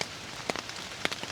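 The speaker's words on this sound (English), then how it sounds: "it just started raining heavily here" Rain taps on a tent in an African rainforest, a soft steady patter broken by a few sharper drops and thuds.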